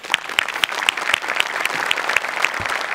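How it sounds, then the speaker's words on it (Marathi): Steady, enthusiastic audience applause fills a comedy stage show, dense clapping throughout with a few sharper claps standing out, loud and continuous without pause. "एकदा जोरदार टाळ्या माझ्यासाठी झाल्या पाहिजेत"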